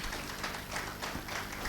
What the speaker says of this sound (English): I want you to pause there and clap for us